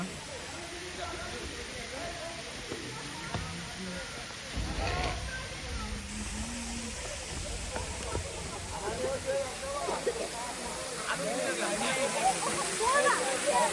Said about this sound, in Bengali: এই যে ঝর্ণাটা